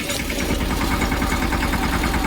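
A tractor engine idles with a steady, rhythmic low chugging, loud and close, running unbroken without any voices.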